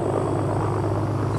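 A supply plane's engine drones loudly and steadily, a continuous close roar with no breaks.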